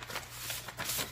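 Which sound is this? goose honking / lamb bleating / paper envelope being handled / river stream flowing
paper envelope being handled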